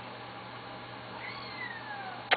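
A tortoiseshell cat that had recently been nursing kittens gives a single short, fairly faint meow near the end of a quiet stretch, with only low room hum before it.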